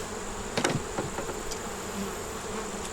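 Honey bees buzz steadily at an open hive, a close continuous drone with a few sharp knocks and clicks of handling near the start.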